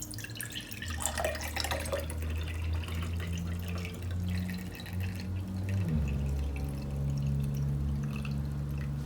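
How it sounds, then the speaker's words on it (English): Water splashes and gurgles while a kombucha bottle is rinsed out, with dripping and pouring that shifts in tone as the bottle fills, close and fairly loud with no talk. "as soon as I finish pouring it, I rinse out the bottle so it gets really clean and you can use it again."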